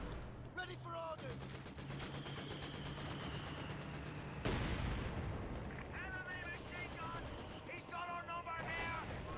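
Infantry gunfire in Company of Heroes 2, rapid rattling bursts of small-arms and machine-gun fire with a heavy blast midway, dense battle noise under a talking commentator.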